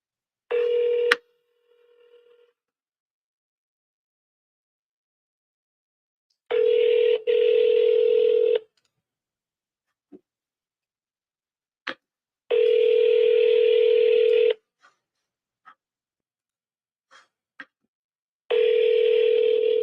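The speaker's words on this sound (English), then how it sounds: "Come on, pick up the phone." An outgoing phone call rings back in long repeated tone bursts separated by silences, preceded by a short dial beep, clear and alone.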